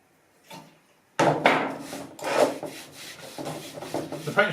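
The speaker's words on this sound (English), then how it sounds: "Start by degreasing and getting all the oil off the rocker covers" Rubbing and wiping strokes of a rag on oily rocker covers stripped from a Toyota 2JZ-GTE Supra engine during degreasing, a close series of scuffing, rasping passes that start after a short quiet moment and continue steadily.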